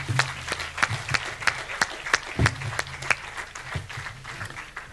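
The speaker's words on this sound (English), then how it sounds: "send them on their way to deliberate with a burst of applause" Applause from an audience at a science communication competition in Mauritius, heard as a series of separate, fairly faint claps with no building roar, quieter and sparser than full applause.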